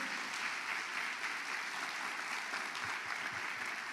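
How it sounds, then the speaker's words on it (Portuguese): Church congregation applauding during a worship service, a soft, distant, steady wash of many hands clapping heard throughout at low level. "Dê um forte aplauso a Ele."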